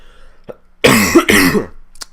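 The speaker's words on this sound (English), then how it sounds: "hold on, I gotta cough" A loud, close cough in two harsh bursts, followed by a brief throat sound, with quiet before and after.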